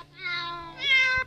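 Cat meow from the Kitty Cat keyboard piano app, a single drawn-out, tonal mew that rises and then swells louder near the end, heard alone and close.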